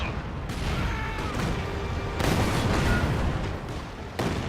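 Maxim machine guns firing in a strategy video game: a close, continuous clatter of rapid shots mixed with heavier booming artillery, with sharp bursts standing out from the steady battle noise.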